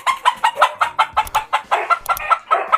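A chicken clucks close by in a quick, steady series of short calls, about a dozen in a few seconds.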